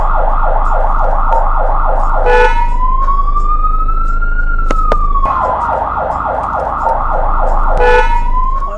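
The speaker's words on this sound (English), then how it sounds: "I always love hearing the sirens and seeing the big fire truck coming down the street" A fire truck siren wails loudly close by, with rapid yelping bursts alternating with long rising and falling sweeps and a low engine rumble underneath.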